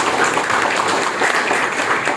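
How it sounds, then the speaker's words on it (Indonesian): Audience applause for a professor at an Indonesian ministry launch event, a dense sustained patter of many hands clapping, loud and steady with faint voices mixed in. "Ini tepuk tangan buat Pak Profesor Reda."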